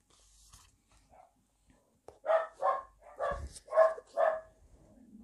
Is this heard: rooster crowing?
no